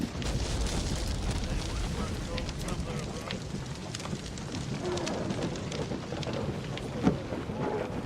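Naval combat in Assassin's Creed Rogue, with a ship crashing into a friendly vessel amid rumbling cannon fire, a dense roaring wall of booms and crackling debris and one sharper blast near the end.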